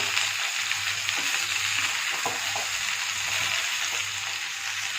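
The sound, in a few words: cauliflower and potato sautéing in a pan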